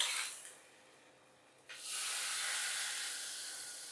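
A hot tempering of onion and curry leaves is poured into a karimeen (pearl spot fish) milk curry: a short hiss fades, then a sudden loud sizzle bursts up and hisses on steadily, with no talk.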